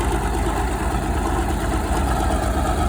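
An old cable-operated Caterpillar diesel bulldozer engine runs steadily at idle, a dense, continuous low rumble with no pauses and no voices.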